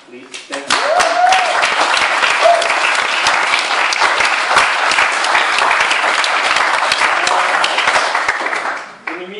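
Sustained audience applause fills a speech event at the Shoot Me 2012 gathering, dense steady clapping from a large crowd rising quickly at the start and carrying on loud throughout before tapering off near the end.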